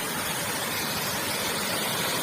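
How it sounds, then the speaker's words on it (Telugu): Broadband roar of a waterfall tumbling down a rocky hillside in the hills at Punyagiri, a steady, dense rush that fills the whole clip without pause, close and constant. "వాటర్ ఫాల్స్ దగ్గరికి వచ్చామండి"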